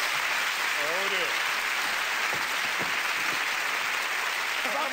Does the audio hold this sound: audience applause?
yes